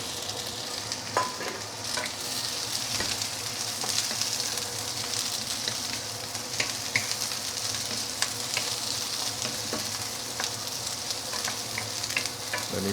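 Beans sauté in a wok with a constant loud hiss of frying, while frequent spatula scrapes and light metal taps keep going throughout.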